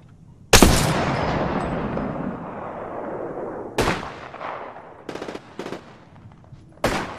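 Gunfire in the Apex Legends battle royale: a loud burst of shots opens with a long decaying echo, followed by further sharp volleys and a quick rattling series of rounds, with no talk.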